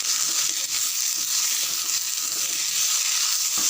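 Mint and coriander leaves sauté in a hot pan for podhina chutney, a continuous loud sizzle and crackle close up with faint stirring beneath.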